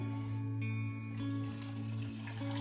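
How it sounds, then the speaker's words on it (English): Water runs steadily into a pot from a tap or cup, a continuous splashing trickle over a low steady kitchen hum, fairly quiet and close. "Water going in."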